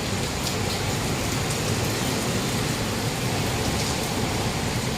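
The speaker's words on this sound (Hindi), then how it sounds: "बारिश, सुबह तेज तेज बारिश हो रही है अभी, ये देखिए कितनी तेज है।" Heavy morning rain pours steadily and loudly outdoors, a dense, continuous hiss and patter of drops on surfaces that stays constant throughout with no voices.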